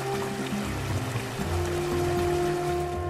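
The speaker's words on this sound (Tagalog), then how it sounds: "batis," Water in a small stream trickles and babbles steadily, a continuous close wash of flowing sound under a soft musical background with no talking.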